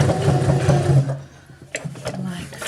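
A sewing machine stitches forward and back to reinforce a seam on a tailor's ham or seam roll, giving a rapid rhythmic hum that stops partway, then soft handling sounds with talk over it.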